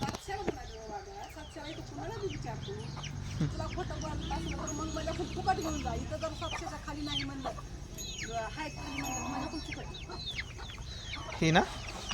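Free-range village chickens and a rooster cluck and murmur continuously nearby, a busy farmyard chatter with occasional louder squawks, while people talk in the background.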